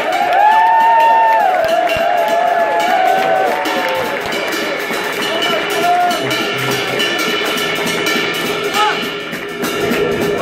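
Club audience applauding and cheering for a band at a live show in Rotown, a sustained wash of clapping and crowd noise with whistles over lingering tones.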